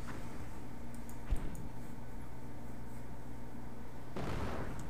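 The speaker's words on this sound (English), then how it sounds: "Mortars for the Americans." Mortar fire from American forces in a strategy war game: a thudding launch near 1.3 s and another rumbling blast near 4.2 s, both over a steady bed of battle ambience.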